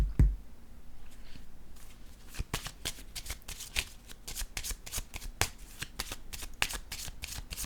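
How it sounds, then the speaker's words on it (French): Tarot cards shuffled and laid down one after another during a reading: sharp, close flicks and slaps in an irregular rhythm, with faint low room noise beneath and no talk. "Je vais déposer une carte ici."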